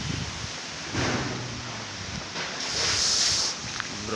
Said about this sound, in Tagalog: malakas ang hangin guys.